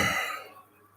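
One person gives a single short, rough cough close by, which fades quickly into near silence.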